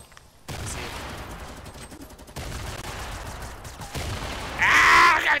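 Gunfire in a Fortnite match comes in bursts of rapid shots separated by short gaps, with a brighter, louder burst toward the end.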